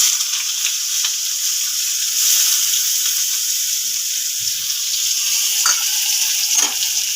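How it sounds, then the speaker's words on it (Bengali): Onions fry in hot oil in a wok with a loud, steady, continuous sizzle, and a few soft stirring scrapes come through near the end. "পেঁয়াজটা একটু নেড়ে চেড়ে ভেজে নিয়ে আলু দিয়ে দেবো।"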